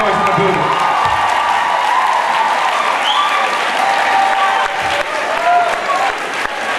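Loud, continuous audience applause with scattered cheers and whoops fills a packed fashion week venue, the clapping steady and dense from start to finish with a crowd murmuring underneath.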